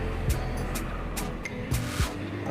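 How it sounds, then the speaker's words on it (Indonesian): Trucks pass on a toll road overpass, a steady rumble of traffic close by with several low whooshing swells and thumps as heavy vehicles go over. "Ada sejumlah truk-truk yang juga melintas."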